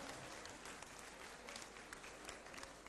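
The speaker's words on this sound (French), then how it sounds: "Donc on peut tous s'applaudir et tous les applaudir." Audience applause at a ceremony, a faint, distant, continuous clapping from a crowd throughout.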